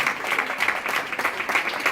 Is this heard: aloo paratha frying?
no